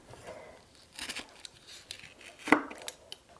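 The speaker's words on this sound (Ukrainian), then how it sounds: "далі дуже тоненько нарізаємо ось таким чином" Knife thinly slicing red fish for a salad, a few soft scattered cuts leading to one sharper, louder stroke near the end, close by with no talk.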